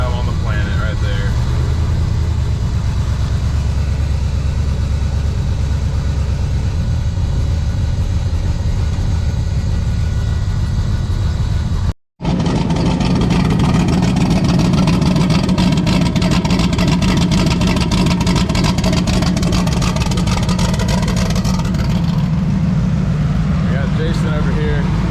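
Turbocharged two-valve V6 race car engine idling and rumbling steadily at drag week, a loud continuous low drone with a brief cutout midway, voices talking over it.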